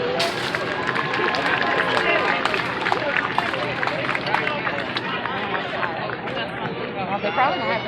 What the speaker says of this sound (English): another round of applause for Jake.